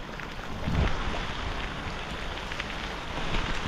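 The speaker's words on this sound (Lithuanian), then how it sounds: "Lietutis!" Light rain falls outdoors during a bike ride through Swiss vineyard towns, heard as a steady soft hiss with a brief low thump early on.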